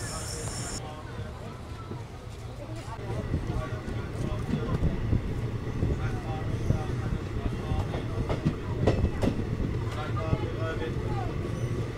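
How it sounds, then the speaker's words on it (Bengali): Teesta Torsa Express pulling into Nabadwip station, a steady low rumble of rolling wagons with rhythmic clatter over the rails, heard from on board with a voice talking over it. "আমাদের ট্রেনটি নবদ্বীপ স্টেশনে এন্ট্রি করে গেছে আর এখানকার হল্ট হচ্ছে 2 মিনিটের"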